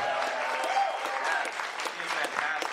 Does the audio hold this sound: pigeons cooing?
no